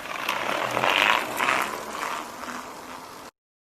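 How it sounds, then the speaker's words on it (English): A bicycle's mechanism whirs and ticks in a quick ratcheting rattle, like a freewheel spinning, fairly quiet and fading slightly over a few seconds. "Bicycle."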